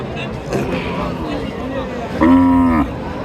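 A cow lets out a loud, drawn-out moo near the end over a background of crowd chatter and voices at Chhatra cattle market in Naogaon.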